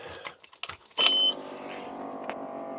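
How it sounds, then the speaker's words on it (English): A key turns in the ignition of a 2000 Odessa Overland motorhome: a short metallic jangle and click, followed by a steady low electrical hum that continues to the end. "Let me turn on the ignition."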